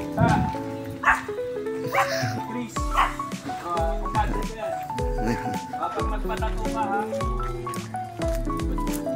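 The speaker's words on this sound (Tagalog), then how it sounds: "Mga Pomeranian. So ito, ito ng bark." Pomeranian dogs barking and yipping close by in a busy mix with a whimper, against constant background music and people talking.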